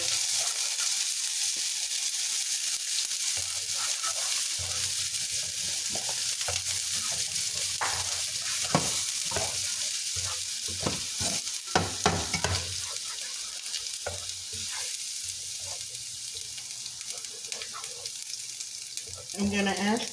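Lemongrass sizzles loudly in a hot pan while a utensil stirs and scrapes through it, a steady frying hiss broken by irregular clinks and shuffles, with no talking.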